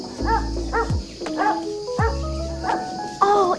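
A dog in a video game barks several times in quick bursts, close and clear, with soft tonal game sounds in between.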